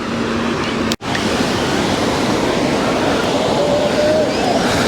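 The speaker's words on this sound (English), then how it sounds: "here we are at beach number 3, which is Bronte Beach" Surf rolls in at Bronte Beach in Sydney, a continuous loud wash of breaking waves with wind rumble, briefly broken by a sharp cut near the start.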